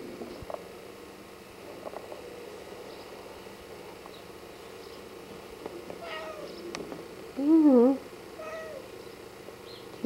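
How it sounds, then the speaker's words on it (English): A single cat gives one clear, wavering meow near the microphone after several seconds of quiet household background with faint movement sounds. "Big fat cat."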